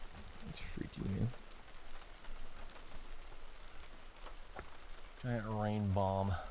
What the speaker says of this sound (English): Giant rain bomb.